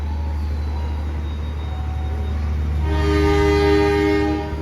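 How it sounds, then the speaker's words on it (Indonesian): A Kedung Sepur passenger train at a Central Java station sounds its horn, a loud, sustained tonal blast starting midway through and holding steady over a constant low rumble of idling locomotives close by. "ini klakson dari kereta api Kedung Sepur"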